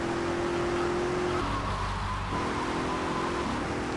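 A car engine in the video game Grand Theft Auto 3 drones steadily while driving, its pitch stepping down and back up as it shifts, loud and close with no talk.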